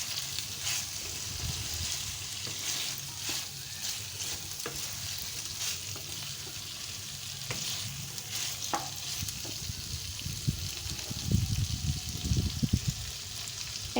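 Fried soya chunks being stirred in a frying pan, with continuous sizzling broken by repeated scraping strokes of a spatula that grow louder and busier toward the end.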